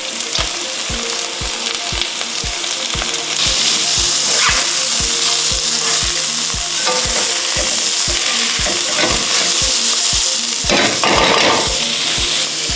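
Onions and carrots sauté steadily in a pan, a continuous close sizzle broken by sharp, regular stirring clicks about twice a second throughout.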